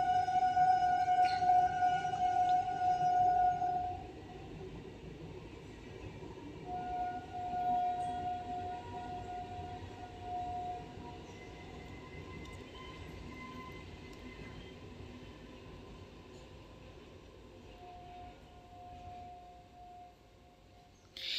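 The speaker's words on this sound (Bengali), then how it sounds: "তোমরা হয়তো ট্রেনের আওয়াজ পাচ্ছ। আমার একবারে মানে রেল লাইনের ধারেই আমাদের বাড়ি বলে তাই ট্রেনের আওয়াজটা প্রায় পাওয়াই যায়।" A train runs along a railway line right beside a house, a steady low rumble with long tonal horn-like whines rising and fading, louder at first and then settling into a continuous distant roll.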